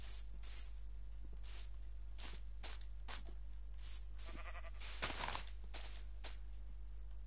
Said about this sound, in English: I'm gonna get that other sheep,